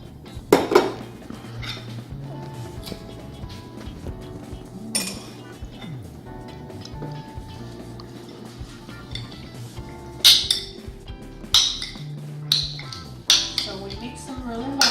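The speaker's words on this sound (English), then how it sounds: "Mix them really well, and we're gonna let it sit for 10 minutes to let it soak in." Raw shrimp stirred with a honey marinade in a bowl, with clinks of a utensil against the dish and soft wet mixing, fairly close, under a speaking voice.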